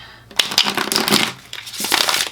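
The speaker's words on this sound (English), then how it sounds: "make sure that we've got a real good shuffle in there" Tarot cards are riffled and shuffled up close in two quick bursts of papery flutter with a brief pause between.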